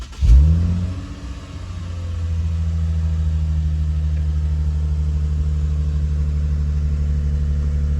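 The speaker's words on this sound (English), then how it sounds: "Then you just start up the car again." A Lexus car engine cranks and fires with a sharp starter burst, then settles into a steady, close, low idling hum that runs evenly to the end.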